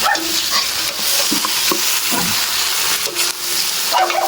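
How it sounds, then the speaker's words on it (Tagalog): Lechon sautéing in a pan, sizzling hard with spoon scrapes and clatter as it is tossed, and a short bark-like sound briefly in the mix; no talking. "Ginisa muna po natin tong lechon."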